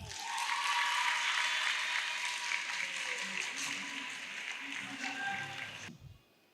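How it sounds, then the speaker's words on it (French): A crowd applauds to welcome a speaker at a school oratory contest final: a dense, sustained roar of clapping that slowly thins and then stops abruptly near the end. "je vous demande s'il vous plaît d'accueillir avec un tonnerre d'applaudissements Abi Anne"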